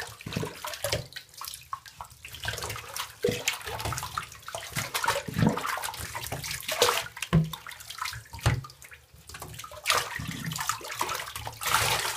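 A pug getting a bath in a bathtub: running water splashes and sloshes steadily over about twelve seconds, with irregular thumps and bursts of spray close by and no talking.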